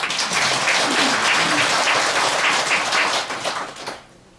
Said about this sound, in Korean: 소띠, 쥐띠 전부 박수 한번 쳐주세요